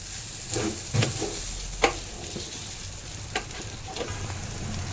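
Rice for Haji-style biryani frying in a pan while a spatula stirs it, giving a steady sizzle with scattered scraping strokes and clinks, moderately close and with no talk.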